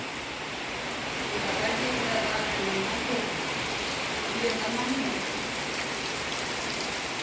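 Light rain falls steadily outdoors, producing a continuous, even broadband hiss with scattered drop patter and no clear talk over it.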